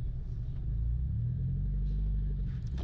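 Low steady engine rumble inside a car crawling through heavy city traffic, a constant droning hum with faint passing noises and no clear voices over it.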